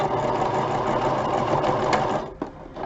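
A sewing machine runs at a fast, even clatter close to the listener, then slows and stops near the end with a small mechanical knock.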